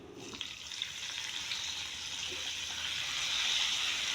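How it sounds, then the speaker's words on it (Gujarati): Hot oil with frying spices sizzles steadily, then swells into a louder hissing rush as half a bowl of hot water is poured into the pan, close and continuous. "હવે હું એમાં અડધી વાટકી પાણી નાખીશ ગરમ કરેલું"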